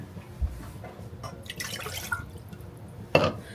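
Water poured into a jar or measuring cup for pickle brine, with a few short splashy trickles and drips, the strongest burst near the end, over a quiet room background.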